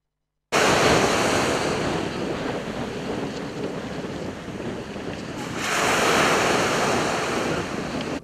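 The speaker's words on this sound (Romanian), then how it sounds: "Mare învolburată și un strop de soare cât să-i pună frumusețea în valoare și vânt cât cuprinde" Rough sea surf crashes steadily on the Romanian Black Sea coast, driven by strong wind that buffets the microphone with a loud, continuous roar that swells again toward the end.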